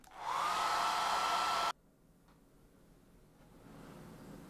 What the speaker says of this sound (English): I will get the hairdryer on this to remove some of the water